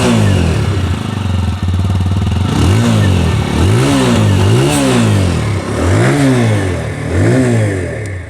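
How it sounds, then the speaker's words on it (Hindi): A Bajaj Pulsar 150 or TVS Apache RTR 160 motorcycle exhaust close by, steady idle that swells into a series of loud throttle blips, rising and falling roughly every second, with no talking. "चलिए इसके एग्जॉस्ट साउंड में आप लोगों को सुना दूँ।"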